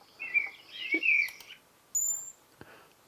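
A blackbird sings in a countryside field recording: a few short, clear phrases and chirps ring out over a quiet background with brief gaps between them.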